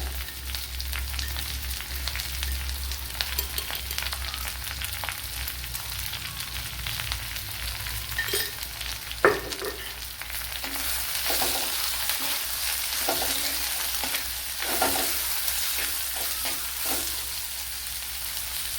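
Sliced onions with salt fry in a pan, a steady sizzle that rises in the second half as a spoon stirs and scrapes in repeated short strokes, with no one speaking.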